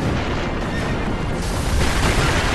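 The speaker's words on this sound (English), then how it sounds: "Firecrackers." In the video game Sekiro: Shadows Die Twice, firecrackers go off in a dense burst of loud crackling pops and rumbling booms, sustained and harsh for a couple of seconds.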